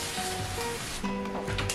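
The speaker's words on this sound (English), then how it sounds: "So I'll spray this whole moss pole" A spray bottle mists nutrient solution onto a moss pole in a short, close hissing spritz with no talking.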